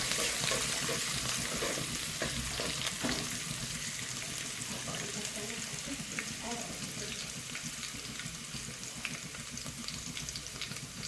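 Green chillies and ginger fry in hot oil for Mumbai-style pav bhaji, a close, steady sizzle with some stirring scrapes, loudest at first and easing slightly.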